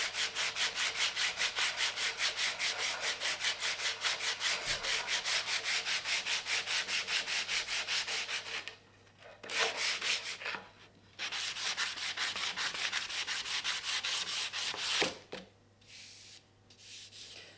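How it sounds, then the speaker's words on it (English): Sandpaper rubbing wood by hand in steady rapid back-and-forth strokes for several seconds, then a few pauses and short bursts, close up with a faint low hum behind and no voices. "I'll just do it with sandpaper. Just do it by hand."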